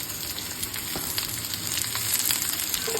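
Capsicum, green chili and onion fry in a pan for a paneer roll, a steady close sizzle with faint crackles and an occasional light stir, no voices over it.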